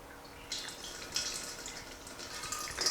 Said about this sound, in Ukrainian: просто заливаємо дистилят в бутиль